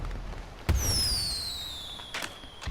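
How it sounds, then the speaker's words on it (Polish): A firework in Grand Theft Auto V pops with a sharp bang, then a long descending whistle trails off, followed by a few more faint crackling bursts. "Postrzelamy jeszcze fajerwerek."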